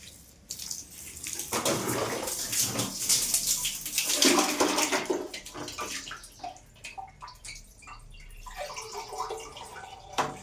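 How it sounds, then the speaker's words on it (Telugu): Water pours and splashes into a room cooler's tank, a steady rushing fill that swells loudly midway and then eases off into quieter trickles and drips. "కూలర్కి అయితే ఫుల్ నీళ్ళు పట్టేసుకున్నాను"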